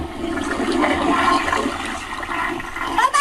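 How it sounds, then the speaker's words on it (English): A toilet flushes in one continuous, loud rush of swirling water that runs the full length without speech, tailing off near the end. "He said flush it."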